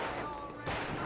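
In the Alan Wake video game, a single loud gunshot bursts out partway through, following a steady low game ambience.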